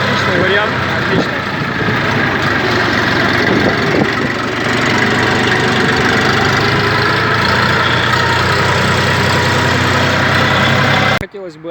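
A Saturn ST2501 Chinese mini tractor engine idles with a steady, loud mid-low chugging hum close by, while someone talks over it throughout, cutting off abruptly at the end.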